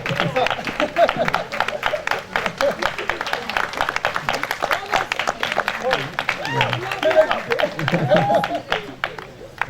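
A crowd at a dramatised stage reading gives dense, sustained applause for the choreographer, with clapping running the whole time beneath cheering and voices.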